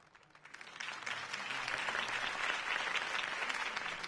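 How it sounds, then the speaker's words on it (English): Crowd applause in a Batman video game after Harvey Dent's campaign speech, rising quickly from quiet into a steady, moderately distant wash of clapping that holds to the end. "If only Mr. Wayne, my campaign's largest backer, could have heard that applause"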